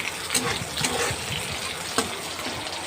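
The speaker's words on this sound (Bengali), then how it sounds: "নিয়ে এটাকে ভালো করে একটুখানি ভেজে নেব বেশি লাল করার দরকার নেই" Sliced onions fry lightly in a pan, giving a soft continuous sizzle with a few faint stirring knocks, fairly quiet and without talk.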